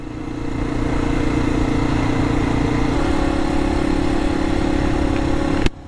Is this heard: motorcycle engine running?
yes